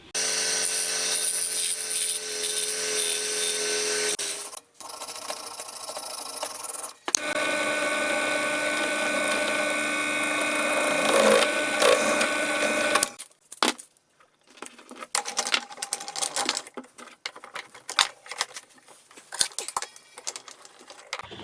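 A drill bores holes through a metal guitar jack socket plate in a workshop, with close sustained runs broken by brief pauses, then scattered handling clatter and scraping.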